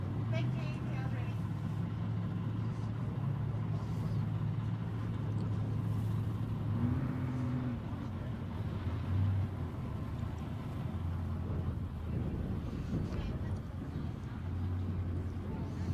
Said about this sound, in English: Both cars rolling up now.